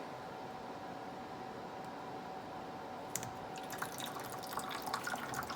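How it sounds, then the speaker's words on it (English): Sporadic wet spattering and dripping begins partway through as water squirts from a hole in a plastic bottle once tape is removed, irregular splashes over a steady background hiss, fairly close. "But water did squirt out, right, as soon as we took the tape off."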